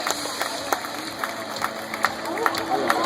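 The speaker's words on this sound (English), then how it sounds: "how about one last big round of applause for all of our tigers in today's show" Applause from the crowd at a Six Flags tiger show, a steady mid-level patter of clapping with scattered sharper claps, and voices mixed in underneath.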